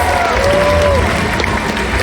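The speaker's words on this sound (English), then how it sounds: "Guys, let's give Seamore a round of applause." An audience gives a brief burst of applause and cheering for Seamore the sea lion at a live show, a dense crowd wash lasting about two seconds, with a voice and a short whistle-like tone over it.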